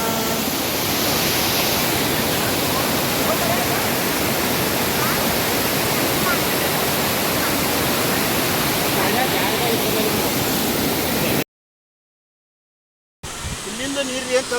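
Pavard waterfalls near Kanakumbi roar as a dense, constant rush of falling water, loud and unbroken, cutting out briefly near the end before resuming with faint voices.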